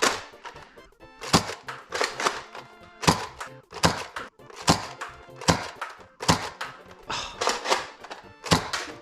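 A BuzzBee Arsenal toy dart pistol fires foam darts in a series of sharp, evenly spaced snapping shots, about a dozen over several seconds, each followed by faint mechanical clicks of cocking, close and clear with no talking.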